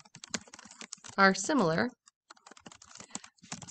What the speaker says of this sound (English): And I'm going to type it. Maybe I'll do better typing.